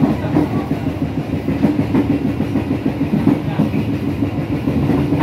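KA Airlangga passenger train cars running on rails at about 90 km/h, heard from inside as a loud, steady rumble with a rhythmic clickety-clack of wheels over joints, continuous throughout with no talk.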